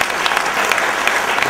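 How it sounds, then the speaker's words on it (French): Audience at an awards ceremony applauding, dense and loud clapping from a large crowd, steady throughout the short burst with no speech over it. "On va applaudir"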